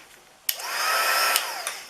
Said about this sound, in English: Alright, so we're going to use this heat gun.